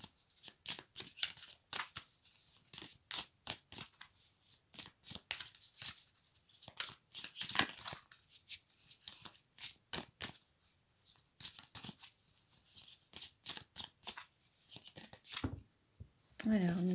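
Oracle cards being shuffled by hand: a long run of quick, crisp riffling and flicking bursts in an irregular rhythm, close and fairly quiet, with brief pauses between bursts.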